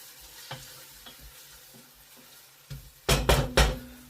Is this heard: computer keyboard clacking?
no